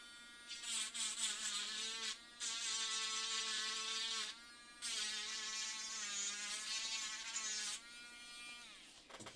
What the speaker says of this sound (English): So now I'm gonna sand off the side just to make it smooth instead of all rough and jagged.